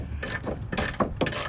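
A hand ratchet clicks in quick, uneven bursts while loosening the last strut bolt on a 2015 Ford Explorer, close and moderately loud with brief pauses between strokes.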